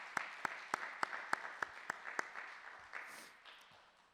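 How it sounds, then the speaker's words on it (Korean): A church congregation at a Friday worship service claps in a slow, even rhythm of about a dozen sharp hand claps, fairly quiet and distant, fading out toward the end. "하나님께 영광의 박수 올려드리겠습니다"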